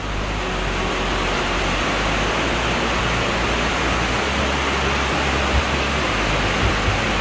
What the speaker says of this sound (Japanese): 幅があって水があって、本当に素晴らしい滝であります。